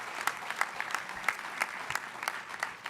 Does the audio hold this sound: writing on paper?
no